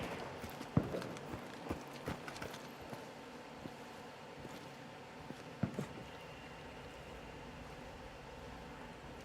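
Footsteps in the video game Outriders, a series of close, sharp steps at an irregular pace, some louder thuds standing out over a steady background hiss, with no talk.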